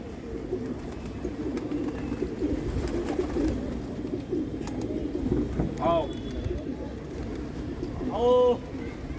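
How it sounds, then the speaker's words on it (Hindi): Racing pigeons coo in brief, soft calls against a steady background murmur, with a few short bird notes near the end. "दौड़ वाले कबूतर हैं।"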